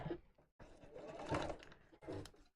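A sewing machine top stitches folded fabric in bursts: a short run, a pause, a longer steady whir, then a final short burst, close and clear with no talking.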